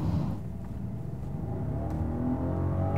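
A Rolls-Royce Wraith accelerating from inside the cabin: a smooth, subdued engine hum and low road rumble that swells steadily, with a faint rising whine toward the end and no voices.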